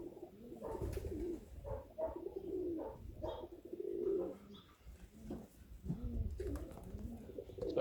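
Pigeons coo in repeated soft low phrases from a rooftop in a backyard loft setting, with a hawk around, mixed with faint chirps and background rustle.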